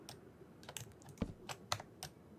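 Clacky computer keyboard keys pressed while playing Minecraft, a handful of sharp, close clicks in an uneven rhythm, fairly quiet and alone.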